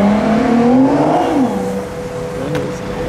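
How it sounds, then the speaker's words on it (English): A Nissan GT-R sports car revs nearby, its engine note rising and then falling in a loud, close sweep with a brief second rev toward the end. "Oh, look, GTR."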